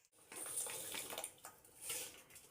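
Water coming to a boil in a pot for biryani rice gives a steady, fairly faint rushing, bubbling hiss with gentle surges, heard alone.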